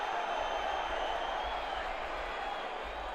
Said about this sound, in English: Crowd getting a little more animated